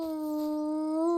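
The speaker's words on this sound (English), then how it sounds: "No wonder the dog's howling like mad." A dog howls in the medieval RPG Kingdom Come: Deliverance II, one long steady mournful note rising slightly at the end, loud and close with nothing else heard.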